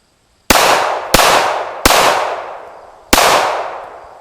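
Four loud, sharp gunshots ring out close by from an AR-15 rifle or a 1911 pistol during speed shooting at an outdoor range, each echoing and fading before the next, with a longer gap before the last.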